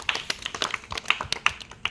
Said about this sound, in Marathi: जोरदार टाळ्या द्या तिच्यासाठी